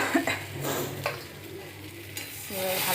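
Fish stirred into a pan of Bengali chorchori, a soft steady sizzle of frying with scraping stir strokes and a few clinks of utensil against the pan, close by.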